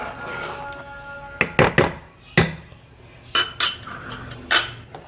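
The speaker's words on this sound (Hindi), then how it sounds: "ये देखिए, हम चलाते जा रहे हैं चम्मच वक्फे वक्फे से" A spoon scrapes and clinks against a cooking pot while stirring a milk dessert, giving sharp metallic knocks in irregular clusters, close and distinct.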